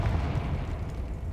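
A Confringo spell explodes in Hogwarts Legacy, a short, heavy booming burst with a rumbling low end that fades quickly.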